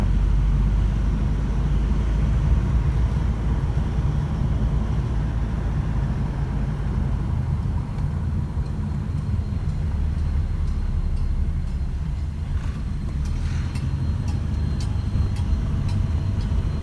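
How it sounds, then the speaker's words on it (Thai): Car engine droning while driving on a rural road to a national park office in Tak province, Thailand; a steady low rumble with road noise, constant and loud, with no talking. "อันนี้ให้เราฟัง เสียงเครื่องยนต์นะครับ"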